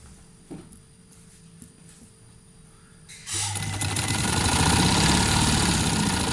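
A sewing machine stitches a trouser hem: a few soft handling clicks, then the motor starts partway through and runs in a loud, steady, rapid whir to the end.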